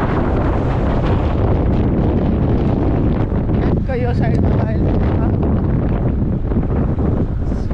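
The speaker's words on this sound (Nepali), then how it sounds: "यहाँनिरबाट लास्ट चिसो हावा आउँछ यो गुफाबाट" Steady, loud rushing cold wind blowing out of a cave buffets the microphone throughout, with a person speaking briefly over the gusty roar.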